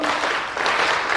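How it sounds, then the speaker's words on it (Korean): Audience applause at a Korean talk, a dense broadband wash of many hands clapping steadily and close, sustained through the whole moment with no voices on top. "박수 한번 쳐주실까요?"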